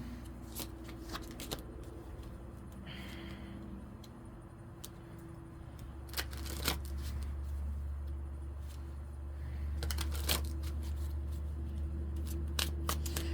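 Infinity Oracle cards are shuffled in repeated quick riffling bursts, close and crisp, over a low steady hum that resembles distant traffic, with no talking.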